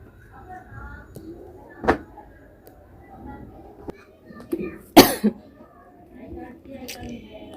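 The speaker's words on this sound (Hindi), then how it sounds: "खांसी" A few short coughs break through a quiet room, one sharp and loud, with softer throat noises and faint rustling around them.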